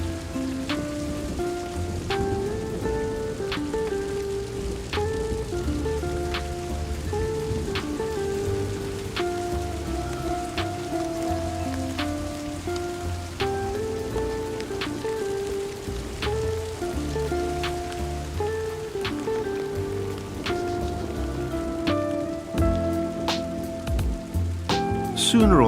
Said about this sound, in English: Sooner or later, the rain will stop. The forest is drenched.